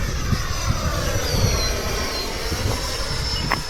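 An E-flite 70mm F-16 RC model jet flies past outdoors, its electric ducted fan giving a steady, broadband whoosh and whine that holds fairly loud throughout with slight swells.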